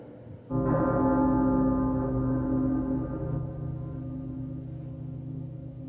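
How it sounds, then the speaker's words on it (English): A single deep bell strike marks midnight, ringing loud and rich at first, then its long resonant hum slowly decays. "The bell struck 12."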